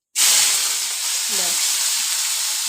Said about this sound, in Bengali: উচ্ছে ভাজাতে দিয়ে দিয়েছি অল্প করে সর্ষে ফোড়ন